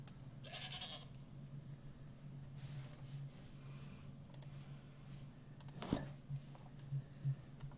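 Old goat bleating in the video game Dawn of Man, a faint bleat heard amid soft clicking and low ambient hum, with a sharper burst near the end.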